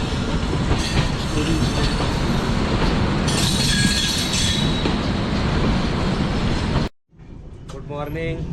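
Passenger train rolling along rails on a trip toward Delhi, a loud steady rumble with wheel noise and some squeal, cutting sharply near the end to a quieter interior with faint voices.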